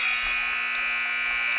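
A basketball game buzzer sounds at the end of a quarter in a high school varsity girls' game, a steady loud electronic buzz held for over a second and a half with no one talking.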